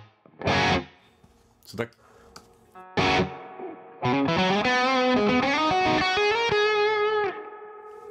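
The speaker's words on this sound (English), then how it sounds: "Let's give it a bit more reverb, see what it sounds like." Electric guitar played through an AmpliTube Mesa Boogie Triple Crown amp simulation with added reverb: a few distorted stabs, then a sustained ringing run of notes with a reverb tail, after a brief spoken line at the start.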